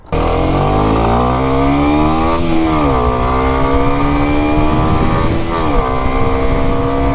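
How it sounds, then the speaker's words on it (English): Kawasaki Ninja 125 motorcycle on a ride, its engine loud and close, revving continuously with pitch rising through the gears and dipping briefly at each shift. "let's get on the little Ninja 125 and let's go for a ride"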